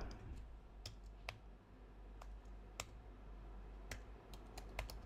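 Quiet typing on a computer keyboard while writing code, a scattering of soft, irregular key clicks close by over faint low room hum, with no talking.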